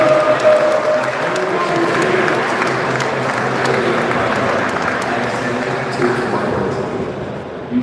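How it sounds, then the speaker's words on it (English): A large crowd applauds steadily for a player from South Africa at a Penn State Behrend versus Austin college game: dense, continuous clapping with a murmur of voices underneath, holding for about eight seconds. "Another round of applause."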